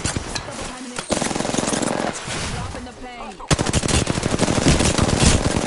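Machine gun fire, with sustained rapid bursts of loud, dense shots that pause briefly and resume even harder, over a busy background.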